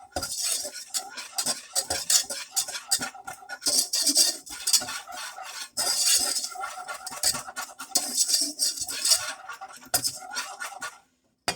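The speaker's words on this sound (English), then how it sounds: "I will use my whisk and stir that around so that it turns like, a paste, like a roux" A whisk scrapes and stirs a thick roux around a pan, with busy, rhythmic metallic scraping and clinking that runs steadily for most of the stretch before stopping near the end.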